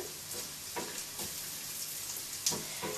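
Garlic frying in a soup pot is stirred in, with a soft sizzle and a few gentle spoon scrapes close by.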